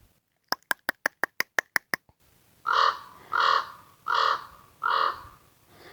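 A rapid run of about eight sharp knocking clicks, then four loud, drawn-out caws from ravens outdoors on the Cariboo Plateau, evenly spaced and close, with no talking.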